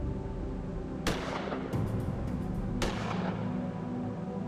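Gunfire in the Gemini Rue shooting tutorial: a few sharp, loud shots spaced about a second or more apart, each ringing out over a steady low background hum.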